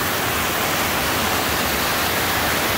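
Stream water pouring over a log in a shaded valley cove, a loud, close, steady rushing wash that runs unbroken from start to finish with no voices.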